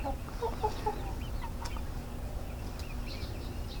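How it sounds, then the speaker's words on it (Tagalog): Dekalb Brown chicks in a warm enclosure peep with several quick, high chirps in the first second, then fainter, scattered calls over a steady low background hum. "mga sisiw na to ng ating decal brown"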